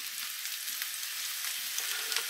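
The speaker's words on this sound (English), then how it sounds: "I'm going to give those a stir and keep them moving, stirring and frying" A steady, close sizzle of potatoes frying in a pan with Marmite, with faint scraping as they are stirred now and then.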